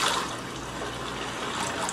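Salty sea water splashing at a Colombian island beach as people take a dip, a steady broadband wash of churning water close by, running continuously without pause.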